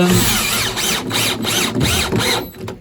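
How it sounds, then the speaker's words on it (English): A power drill used as a screwdriver whirs loudly in repeated short bursts, revving up and slowing as it drives screws, close by with brief pauses between runs, while lining a narrowboat bow with plywood. "this is a drill I'm using as a screwdriver"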